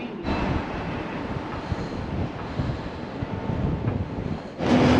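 Strong wind in London buffets the microphone in a continuous low roar, gusting steadily throughout with no voices.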